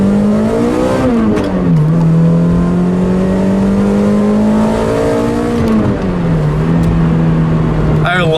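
A Pontiac Vibe GT with a misfire pulls hard on a spirited test drive, engine note climbing through the revs, dropping at each gear change, then rising again, loud and close from inside the cabin.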